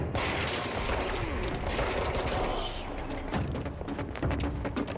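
Gunfire from a wall in the video game Control: a dense, steady rattle of shots with clanks and creaks layered over it, continuous and fairly close.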